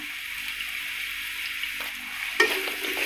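Six medium chopped onions with a little salt frying in coconut oil for a Kerala beef curry, giving a steady close sizzle with a brief scrape of stirring partway through.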